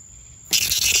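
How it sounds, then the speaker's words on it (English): A cicada on a hot day outdoors near a car, giving a sudden loud, steady high-pitched buzz that starts halfway through after near silence and continues close by. "Oh, there's a cicada."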